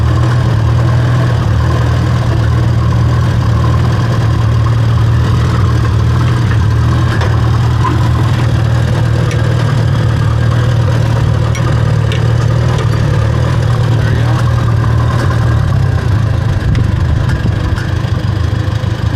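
A small, warmed-up Farmall tractor engine idles steadily up close, a loud, even low rumble with a constant throb and no talking.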